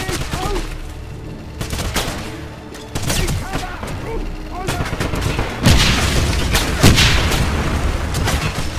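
A grenade explodes amid heavy gunfire in a Wolfenstein shooter game, with dense rattling shots throughout and a louder booming blast about two-thirds through, loud and close, with game voices mixed in.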